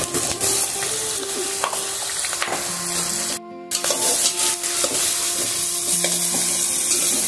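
Bottle gourd pieces stirred in hot oil with turmeric sizzle steadily and close by, with scraping stir strokes throughout and a brief quiet break partway through; no talking.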